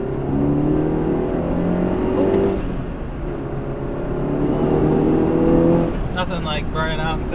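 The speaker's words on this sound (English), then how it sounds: "Nothing like burning out in third gear." An MK7 Volkswagen GTI accelerates hard in third gear on a cold day, engine droning loudly and rising steadily in pitch over several seconds, with people talking over it toward the end.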